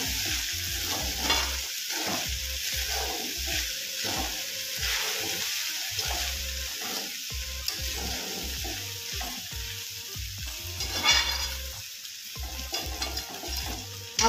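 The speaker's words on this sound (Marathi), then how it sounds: "चांगला हलवून घ्या." Jeera rice being stirred in a pan, with steady scraping and stirring strokes over a soft background sizzle, close and fairly loud, with no one speaking.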